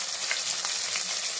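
Chicken for biryani sizzles in a frying pan, a steady hissing crackle heard up close for a brief moment with no voices.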